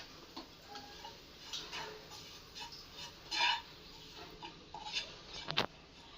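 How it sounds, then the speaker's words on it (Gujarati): Grated coconut roasts in ghee in a pan while a spoon stirs it, producing soft scraping and occasional metallic clinks against the pan, quiet and intermittent. "આપણે કોપરાના છીણને 2 મિનિટ કે 3 મિનિટ આપણે થોડુંક શેકી લઈશું।"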